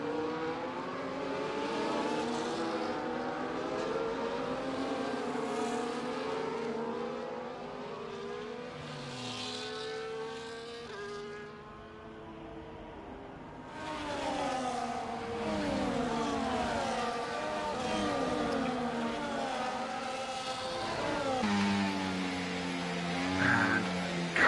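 F1 race cars in the F1 24 video game at the Canadian GP pull away after a safety car period, a dense chorus of engines revving and rising through gears, loud and sustained with cars sweeping past.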